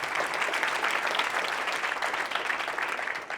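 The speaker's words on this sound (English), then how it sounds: "Let's give another round of applause to our host." Audience applause for the host at a talk on personal growth and purpose: a steady, dense wash of many hands clapping at once, fairly loud and even throughout, with no voices over it.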